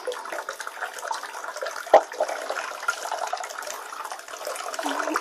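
A synthetic-bristled paint brush is swished and rinsed in a container of water, making soft continuous sloshing. One sharper splash stands out partway through, and no voices are heard.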